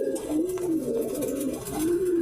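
Pigeons coo in soft, rolling low calls, two drawn-out phrases close by against faint background noise.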